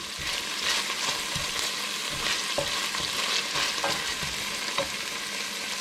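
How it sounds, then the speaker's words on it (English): Chopped onion and garlic fry in a pan with a constant hiss of oil, broken by light scrapes and taps from a spoon stirring at intervals, nearby and unaccompanied by speech. "my onion and garlic's just been cooking there just for a minute or 2"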